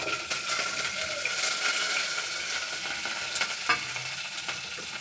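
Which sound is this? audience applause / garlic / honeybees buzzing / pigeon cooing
garlic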